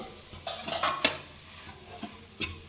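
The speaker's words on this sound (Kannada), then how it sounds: "ಈಗ ಬೆಂಡೆಕಾಯಿನೇ ಆ್ಯಡ್ ಮಾಡ್ತಾ ಇದ್ದೀನಿ ಇದಕ್ಕೆ" Okra is added to a pan for a lady finger curry and stirred with a spatula, giving a few quiet scrapes and clinks over a faint sizzle, with no talking.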